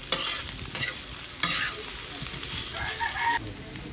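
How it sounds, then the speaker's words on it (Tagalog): Bisaya native chicken sizzles and crackles in a hot pan while a utensil scrapes and stirs, with a couple of sharp clanks near the start. "Ito naman at magluluto ako ng halang-halang na bisayang manok."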